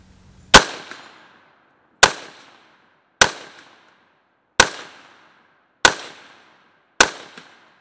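Six sharp rifle shots from a 14.5-inch BCM AR upper crack out at an outdoor range, spaced a second or so apart. Each loud report is followed by a short fading echo, with no voices.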